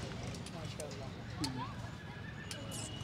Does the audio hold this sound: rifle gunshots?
no